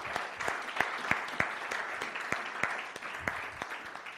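A church congregation applauds together during a Pentecost service, a steady wash of clapping with sharper individual claps standing out at an even rhythm throughout, fairly loud and without any talk over it.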